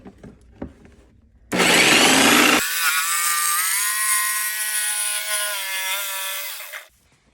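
A jigsaw cuts through a motorcycle fairing on an Electra Glide while fitting mid bass drivers with jefe rings, a loud sustained buzzing whine running for about five seconds after a quieter lead-in, with no talk.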